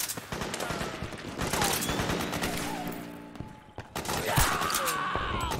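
Gunfire from the video game Metal Gear Solid 4 rattles in dense, loud automatic bursts with scattered single shots. Sweeping whistles and tones are layered over the shooting and continue throughout.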